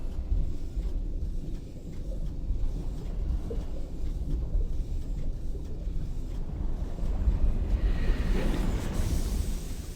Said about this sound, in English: And we've breached the water.